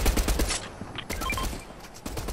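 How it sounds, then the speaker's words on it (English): Rapid automatic gunfire in a squad-based shooter video game, a quick burst of loud close shots followed by scattered further reports and small electronic effect tones. "Are you shooting at us?"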